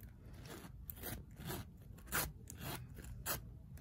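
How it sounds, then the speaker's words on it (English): A zipper on a Louis Vuitton Rosalie wallet with cowhide leather trim is drawn open in short, dry rasping pulls, quiet and close, with small scrapes between strokes. "And let's try the zipper."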